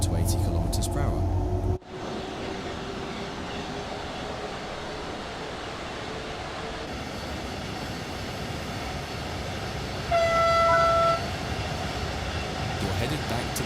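Simulated train running on rails in Train Sim World 5, a German service with cruise control, giving a steady rumbling roll with a brief high tonal whine near the end and a sharp cut early on.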